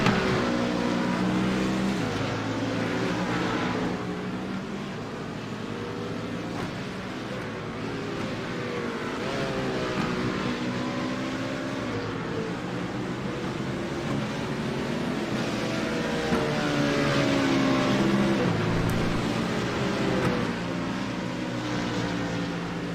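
Race cars on an outlap around Spa-Francorchamps in iRacing, a steady engine drone with rising and falling revs as gears shift, some cars nearer and others farther, continuous throughout.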